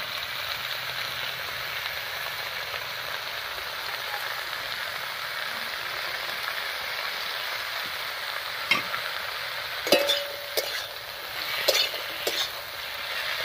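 Potatoes and Malabar spinach stems with turmeric and salt fry in a pan with a continuous crackling sizzle, joined near the end by spoon scrapes and clinks against the pot.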